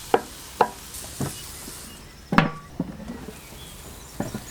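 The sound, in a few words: stirring fish tagine in a pan on a Weber Q barbecue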